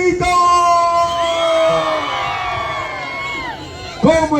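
A carnival crowd in Ayacucho roars together in one long, loud shout that fades out, then a fresh burst of voices starts at the end.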